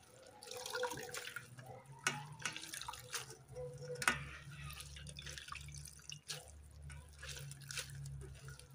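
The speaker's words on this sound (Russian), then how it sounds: "я выжимаю перо" Water drips and trickles close by, irregular splashes and spatters as washed down feathers are wrung out over a basin, with soft handling noises.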